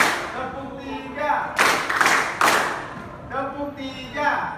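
Grade XI vocational-school students clap together in a counted classroom clapping game, two or three sharp bursts of massed claps between stretches of a teacher's speaking voice.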